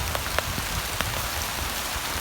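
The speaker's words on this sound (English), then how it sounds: "It's starting to rain again" Steady rain falls on a garden, a dense even hiss of drops with scattered brighter ticks, continuous and alone.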